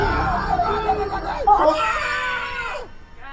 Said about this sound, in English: we heard screaming